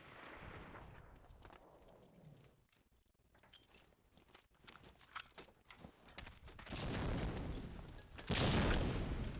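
Grenades burst and guns fire in Medal of Honor Allied Assault during a competitive sniper match: scattered sharp shots and cracks, then two deep, loud explosions toward the end, the whole clip fairly faint.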